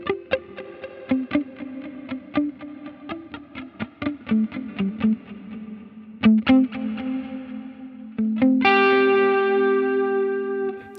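Guitar played through a Line 6 Helix Heliosphere stereo delay, picked notes trailing into bouncing repeats before a sustained distorted chord rings out at the end.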